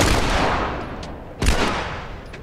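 Gunfire in The Last of Us video game: a dense burst of shots with a second sharp report midway, loud and reverberant, with no talk over it.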